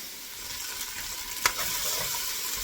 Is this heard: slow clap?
no